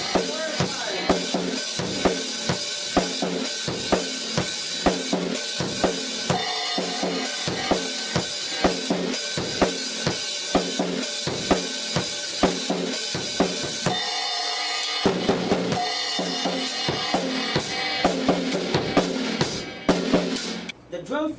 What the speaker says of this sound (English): The first limb is the right hand on the hi-hat, the left in the snare, and the foot on the bass drum.